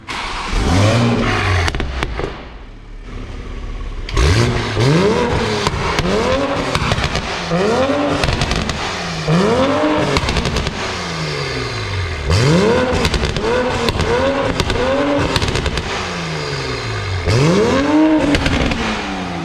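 Toyota Supra engine with a new downpipe revving hard and repeatedly nearby, rising and falling in loud sweeping pulls with crackling exhaust pops between throttle blips.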